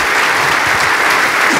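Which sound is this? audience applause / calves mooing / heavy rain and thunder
audience applause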